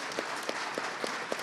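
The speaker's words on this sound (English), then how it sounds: "Let's give a round of applause to these candidates so far." Steady applause from a debate audience, a dense wash of many hands clapping with a few sharper claps standing out.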